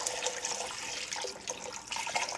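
Beef braising broth poured into a pot of massaman curry, a soft close splashing gurgle of liquid flowing steadily for a couple of seconds.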